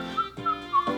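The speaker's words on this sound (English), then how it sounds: "his whistling is so beautiful" Someone whistles a quick tune of three or four short, bright notes in a Candy Land DVD game (2005), clear and close, with brief pauses between them.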